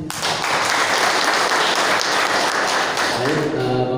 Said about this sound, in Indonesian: Sekali lagi kasih aplaus yang meriah.